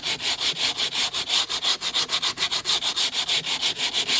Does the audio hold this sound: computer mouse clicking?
no